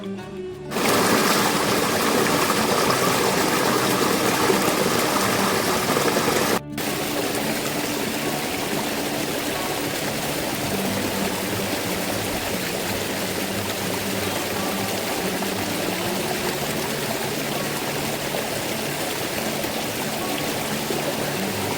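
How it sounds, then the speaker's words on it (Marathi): A monsoon-swollen stream on a trek near Irshalwadi village rushes loud and unbroken throughout, a dense, steady roar of flowing water close at hand with no voices. "इथे आपल्याला ओढा क्रॉसिंग करायचा आहे."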